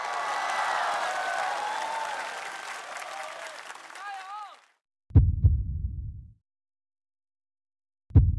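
A studio audience at a televised music competition applauds and cheers to welcome a performer, a loud sustained wash that fades out, followed by a few heavy low thumps.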